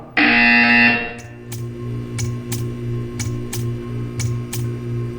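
A harsh electronic buzzer sounds once, loud and for about a second, in a Portal 2 video game test chamber. A series of faint, regular ticking clicks follows over a low hum.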